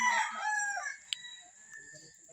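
A rooster crows in a drawn-out, falling call at a friend's house during a birthday visit. Fainter calls from other chickens linger behind it, moderately near.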